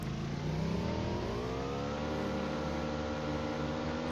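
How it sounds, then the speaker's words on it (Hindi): A scooter engine in a shooter video game hums steadily and rises in pitch as it pulls away, a continuous, fairly loud drone with no talk over it. "अब फिलहाल इसका स्कूटर लेके हम चल देंगे यहाँ से"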